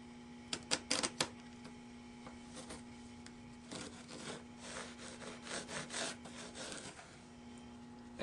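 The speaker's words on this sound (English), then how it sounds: "performing the next operation of tracing the pattern" A violin pattern is traced onto a wooden fixture, with a few sharp clicks early on followed by quiet, intermittent scratchy rubbing strokes, close and faint against a low background hum.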